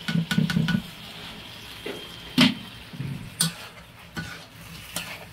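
Jagdumur (figs) dropped into a pan and stirred: a few quick scraping and clattering strokes of a utensil against metal, soft sizzling in between, close and fairly quiet.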